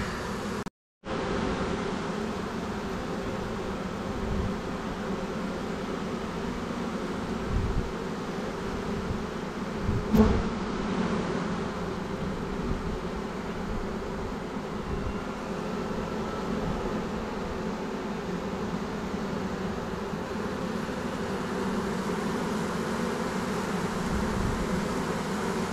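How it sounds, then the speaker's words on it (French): Swarm of honeybees in an attic, a continuous dense buzzing hum that holds steady throughout, moderately loud and close, with a few faint knocks and no talking. "première expérience de récupération d'essaim dans des combles"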